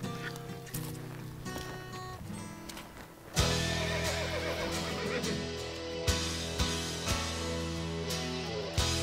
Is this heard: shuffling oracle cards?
no